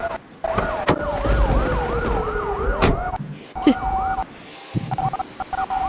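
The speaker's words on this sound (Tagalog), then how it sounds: "sasakyang pulis ang nandito sa bahay ni Tita Lorena?" Police car sirens wail in rising and falling sweeps outside a house, loud and close, with overlapping siren tones, sharp bangs and a brief stop before the sirens resume.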